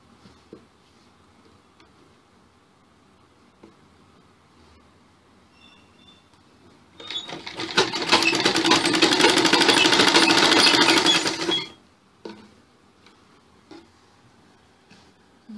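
A sewing machine stitches a Chinese-collar sherwani suit in a loud, rapid mechanical run of about five seconds, starting and stopping abruptly amid quiet handling noises.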